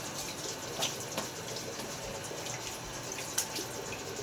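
Running water rinses a vintage 1960 Gillette Fat Boy safety razor partway through a shave, a soft steady faucet stream with a few faint clinks, quiet and without talk.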